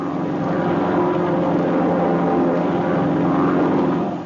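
Propeller airplanes flying in formation, with a steady, loud engine drone and propeller hum held continuously from start to finish, with no talk.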